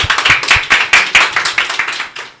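An audience at a Bible college gathering claps in a rhythmic burst of loud, close hand claps that start strong and gradually taper off.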